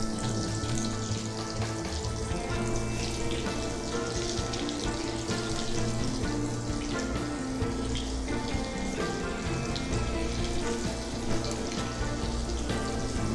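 Marinated mushrooms frying in hot oil in a pan for a hot and spicy dish, a loud, dense, steady sizzle and crackle running unbroken throughout with no voices.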